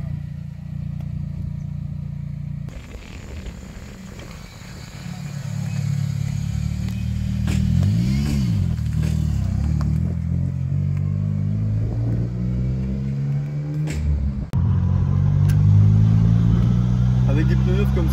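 A Nissan Silvia S14 pulls away on a test drive on a dry road with new tires, its engine revving and accelerating close by, pitch climbing through gears with brief dips between shifts, while people talk over the motor.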